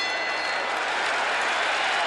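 A dense arena crowd at the Ali vs Spinks rematch roars and applauds without pause, a loud continuous wash of cheering and clapping that fills the space.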